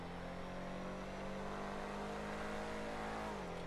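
Canis Freecrawler off-road car in GTA 5 driving with a steady, loud engine drone and rising rev, continuous and close with no pauses, no voices.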